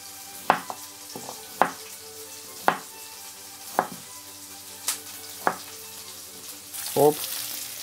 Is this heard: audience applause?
no